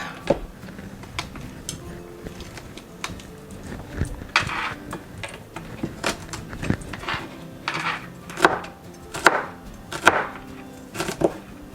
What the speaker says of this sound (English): Then I'm going to give the garlic a little bit of a chop.